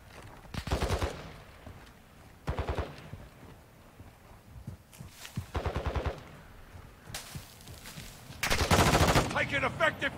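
Gunfire in Modern Warfare DMZ (Modern Warfare 2022): repeated short automatic bursts of rapid shots at irregular intervals, fairly loud, with a longer heavier burst near the end and game ambience between.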